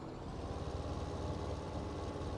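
Tractor engine idling in Farming Simulator 15, a steady low rumbling drone with an even throb, continuous and moderately loud, with no talking.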